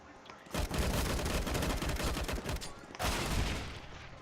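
Loud, close gunfire erupts in a Counter-Strike: Global Offensive match, where a Desert Eagle pistol is in play, as dense rapid shots over about two seconds, a brief pause, then another short burst.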